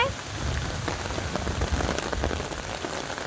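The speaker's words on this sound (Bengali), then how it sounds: "খুব বৃষ্টি হচ্ছে, খুব বৃষ্টি" Heavy rain driven by strong wind pours down in a continuous, dense roar of drops hitting surfaces, loud and unbroken from start to finish.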